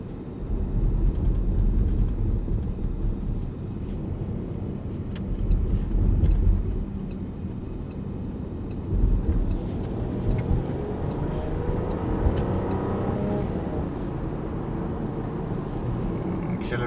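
A 2021 Porsche Panamera drives along quiet streets, a low engine hum swelling in a few smooth accelerations, under light road noise, with people talking inside the car.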